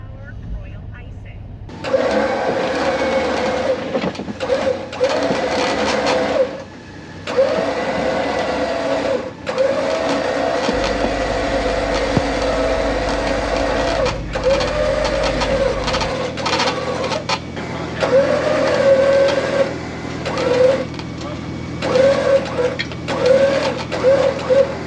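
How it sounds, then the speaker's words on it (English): Two winches, one run through a pulley block and one pulling in a straight line, haul a rolled 4x4 back upright at a 4x4 park. A steady, buzzing motor whine runs near and continuous, with brief dips, and voices can be heard around it. "So two winches, one on a pulley block to get the angles right, the other one a straight line pull to pull it back over."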